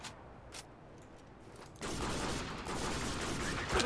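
Gunfire in the video game Spec Ops: The Line: a couple of isolated shots, then a dense, sustained burst of rapid fire that stays loud to the end.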